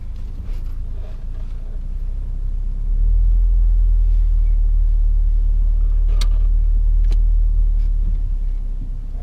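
A car reverses out of a parking bay during a driving test, its engine a steady low rumble that steps up noticeably partway through and then holds, close and continuous with no talking.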